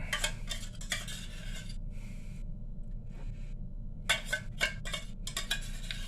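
A metal spoon scrapes and clinks inside a can while scooping out tuna in a home kitchen, a few bursts of scraping at the start and a quicker cluster of clinks toward the end, close up with no talk.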